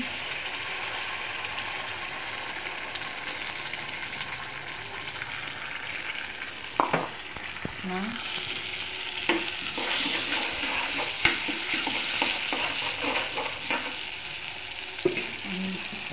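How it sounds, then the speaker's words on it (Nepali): Ginger, garlic and tomato paste fry in a pan with a steady bubbling sizzle, punctuated by several sharp knocks and scrapes of stirring in the second half. "अब हामी अदुवा लसुन र गोलभेडाको पेस्ट हाल्छौँ।"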